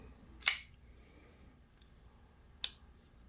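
Carbon fiber folding knife with an M390 blade, a TWOSUN TS223, flicked open twice. Each flick gives one crisp, close metallic snap, spaced about two seconds apart, over quiet room tone.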